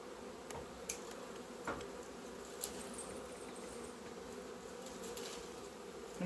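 A continuous drone of many honeybees buzzing close by at a queenless hive in February, with a few faint ticks and knocks, and no talking.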